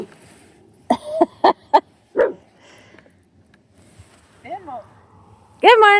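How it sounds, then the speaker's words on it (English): A dog named Sammy barks in short bursts, several quick loud woofs close by, then a softer whine and a final yelp, at a morning outdoor camp cooking spot. "Ben won't bark, but Sammy does."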